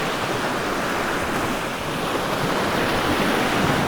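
Steady ocean surf out at sea, a loud, continuous wash of rushing water and spray with wind noise and no break for several seconds.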